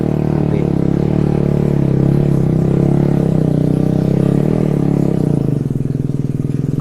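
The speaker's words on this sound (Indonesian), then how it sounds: "Ada suara motor kencang ya. Suaranya agak kencengan." A loud, rumbling motorcycle engine idling close by, with a throaty pulsing exhaust that shifts slightly in pitch toward the end.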